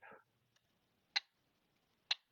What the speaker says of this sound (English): I've got a metronome here. Let's use it.